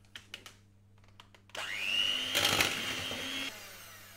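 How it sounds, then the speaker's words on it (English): An electric mixer whirs up to speed, beating evaporated milk and sugar for a gypsy tart filling, running steadily for about two seconds after a few light clicks, then cutting off. "And I'll mix till smooth."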